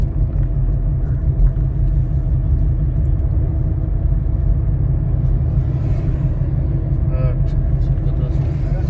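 A car rolling along the road at Wadi Jinn near Medina, Saudi Arabia, gives a steady, loud low rumble of tires and cabin noise throughout, with a voice speaking faintly over it.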